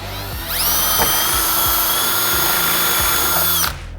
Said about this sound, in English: So we're gonna drill our first hole.